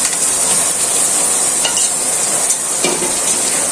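Pre-fried broiler chicken turned in hot spice masala for a restaurant-style bhuna, with a loud, dense, steady sizzle close up and occasional scraping stirs, no voices.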